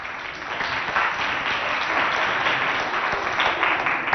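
Crowd at a school competition event clapping and cheering loudly, a sustained wash of applause that stays strong from start to finish.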